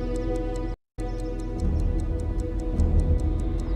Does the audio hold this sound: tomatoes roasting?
no